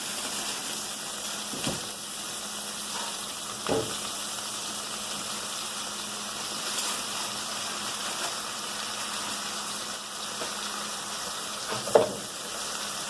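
Philly cheese steak meat sizzling steadily in a pan, a continuous hiss with a few soft clinks and scrapes, no talking.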